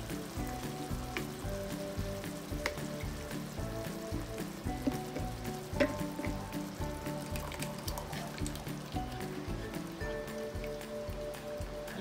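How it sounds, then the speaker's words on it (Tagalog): Coconut milk bubbles and sizzles steadily in a pan with squash for ginataang kalabasa with beans and shrimp, a dense, even crackle like light rain that continues throughout. "Lagay po natin ang ating gata,"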